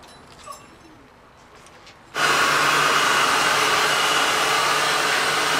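A heat gun blasts hot air to shrink plastic wrap onto a latex resistance band, starting abruptly after a quiet, faintly noisy lead-in and then roaring steadily and loudly with a broad, even hiss to the end.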